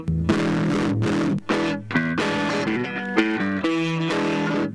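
Distorted electric guitar put through a browser-built amplifier with a pre-distortion filter, playing a short riff of sustained, buzzing chords that change several times, alone and fairly loud.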